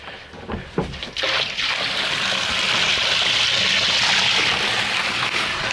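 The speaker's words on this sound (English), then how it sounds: "We got to put a little water in there." Water pours steadily into a tub of silage, a loud, close, continuous rushing gush that builds after a few brief splashes and holds unbroken to the end with no talk.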